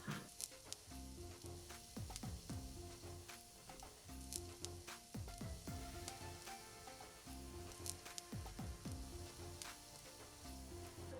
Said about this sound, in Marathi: आता जास्त चवीसाठी कढीपत्ता टाकते.